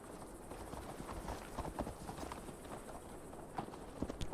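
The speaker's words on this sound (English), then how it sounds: "Mount up, Eivor" Horse hooves clip-clopping steadily as a mount is ridden in the game Assassin's Creed Valhalla, a continuous trotting rhythm close by with no voices over it.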